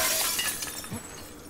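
Glass shatters as Ellie leaps through a window in the video game The Last of Us Part 2, one sharp, bright crash at the start that rings off into scattered tinkling fragments.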